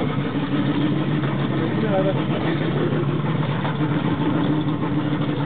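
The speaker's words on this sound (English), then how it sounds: "Watch out for the motor." A fishing boat's outboard motor idles on a tuna trip, a steady mid-pitched chug running continuously beneath close, excited voices.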